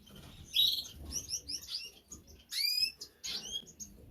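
Newly hatched canary chicks chirp in a shed aviary as the cock bird feeds them, a run of high, thin, insistent tweets and squeaky calls in bursts close by, with no talking.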